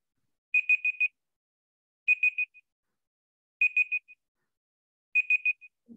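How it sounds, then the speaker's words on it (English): Four evenly spaced bursts of high, rapid electronic beeps, each a quick cluster of pulses, repeat alone in an otherwise silent online webinar. "Can you stop this beeping?"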